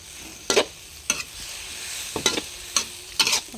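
Holy basil leaves tossed into a hot pan with pork and beans, sizzling steadily under several sharp scraping stirs of a spatula at irregular intervals.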